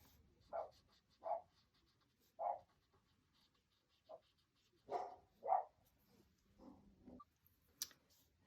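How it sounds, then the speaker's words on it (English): Dogs bark outdoors in short, separate yelps spread across several seconds, quiet and somewhat distant, with stillness between them and no talking. "I could hear the dog barking, and it's getting my dog to bark."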